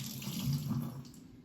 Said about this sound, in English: Then we're gonna wash our tomatoes.